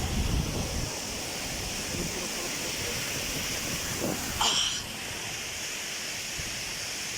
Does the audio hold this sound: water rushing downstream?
yes